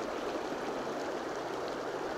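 A river flows with a steady, even rushing wash of water, continuous and fairly close, with no voices over it.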